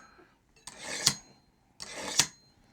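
A knife is drawn through a handheld sharpener twice, each pass a quiet rasping scrape that ends in a sharp metallic zing, with a pause between strokes.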